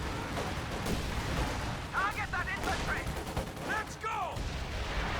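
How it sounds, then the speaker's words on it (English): An artillery strike in Company of Heroes 2 pounds a Schwere Panzer HQ building, with booming impacts and crackling gunfire in a dense battle din while a commentator talks over it. "an artillery strike will seal the fate of this Schwere Panzer HQ."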